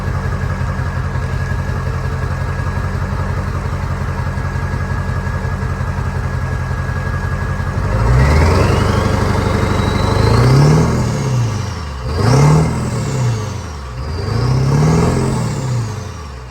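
A Ford E350 van's 7.3 Powerstroke diesel, with a turbo flap, idles after a cold start in a steady loud clatter for about eight seconds, then gets three rising and falling revs close by, with no voices.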